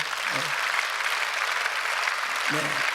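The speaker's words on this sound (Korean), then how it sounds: "박수 한번 해주시고" Church congregation at a Friday worship service applauding team members who served on a mission, a steady dense clapping that fills the clip, with a voice briefly speaking over it.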